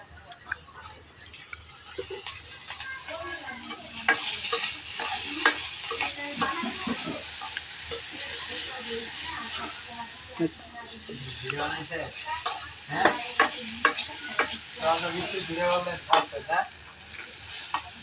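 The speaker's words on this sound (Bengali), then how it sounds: "এখন আমি তেলটা খুলতাছি, তেল দিতাছি।" Oil poured into a cooking pan for a home-style Bengali dish, followed by steady sizzling and frying with intermittent scraping and stirring clinks, continuing fairly close throughout with occasional louder bursts.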